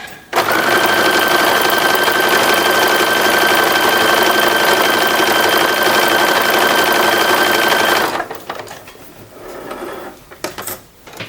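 A sewing machine hemming fabric in gray thread runs loud and close in one continuous whir with a steady tone for about eight seconds, then stops, leaving quieter handling noises.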